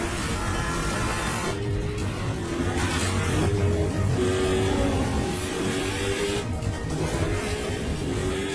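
A Subaru race car engine revs hard during a street race against a Lancer Evo 9, a dense, steady roar with no break and no voices.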